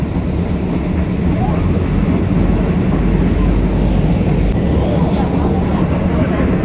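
A loud, continuous rumble of an old Thai passenger train rolling along the tracks past salt fields, with steady clatter and muffled voices underneath.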